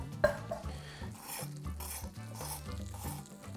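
A spatula scrapes and pushes a grilled cheese sandwich of Westcombe Cheddar around a hot pan, giving a sharp clack at the start and then rhythmic rasping strokes over a soft sizzle, close and fairly quiet.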